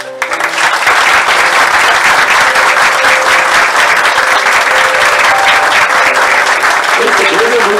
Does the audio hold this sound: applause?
yes